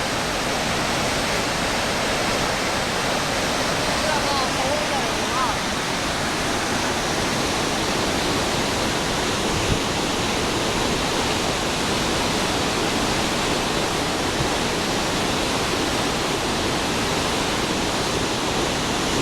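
Steady, loud roar of the waterfall at Shuswap Falls, a dense broadband rush of falling water that holds unchanged from start to end with no voices over it.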